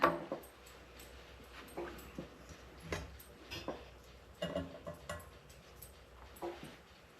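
A dog moves about and whimpers indoors, with soft whines and scuffling steps recurring every second or so at close range, no one speaking.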